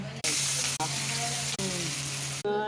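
Whole spices for a Bengali tempering hit hot oil with a loud, dense sizzle that holds steady, with a few brief breaks, for a couple of seconds.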